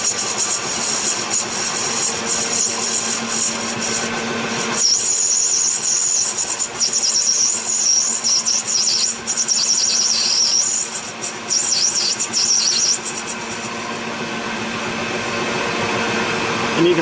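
Aluminum bronze bar stock is cut on a machine, giving a loud, continuous grinding hiss with a high metallic squeal that rises midway and persists for several seconds before easing.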